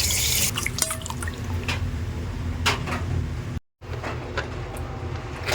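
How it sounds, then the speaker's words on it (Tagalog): Food being washed in water before marinating, with close dripping, splashing and running-tap sounds through most of the moment, broken by a brief silent gap, and no talking. "Hugasan muna natin to para ating i-marinate."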